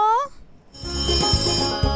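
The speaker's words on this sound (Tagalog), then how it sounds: "kapag narinig mo na ang mahiwagang kring-kring" A telephone ringing sound effect for a radio station's prize promo: a short, loud electronic warbling ring at the start, then a brief pause before a burst of loud music takes over.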